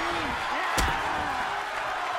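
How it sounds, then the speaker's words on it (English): A stomp to the gut in a wrestling video game lands as one sharp, heavy slam amid constant crowd noise, with a commentator talking over the action. "And a stomp to the gut, too."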